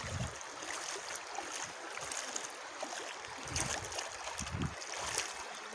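River water flowing and lapping steadily during a crossing on foot or by small boat on the way to town, a continuous close wash with no voices.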